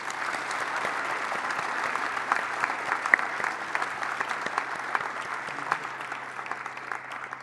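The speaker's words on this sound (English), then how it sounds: "Let's give them another round of applause." Audience applause for panelists closing out an Ontario Chamber of Commerce economic outlook event, steady and moderately distant, with dense scattered claps sustained throughout and a low hum beneath.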